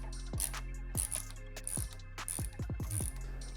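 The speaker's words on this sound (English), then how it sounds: "Now I'm also going to loosen up this screw." A ratchet loosening a screw on a motorcycle rear fender of a bagger: rapid clicking pawl strokes in repeated short bursts, close and fairly loud, with no talking.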